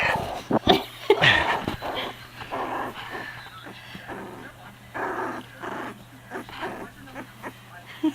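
Sheltie puppies at play let out small growls, whines and yips in uneven bursts, close by, while adults talk quietly in the background.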